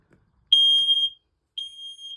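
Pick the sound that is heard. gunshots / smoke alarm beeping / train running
smoke alarm beeping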